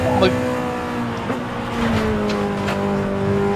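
Race car engine in Forza Horizon 5 during a Goliath race, with a continuous high-revving drone shifting pitch over brief bumps and clicks while players talk over it.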